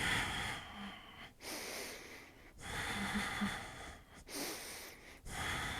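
Deep, audible breaths during a Pilates reformer exercise, with four long, hissy breath cycles separated by short pauses, close and fairly quiet, with no speech.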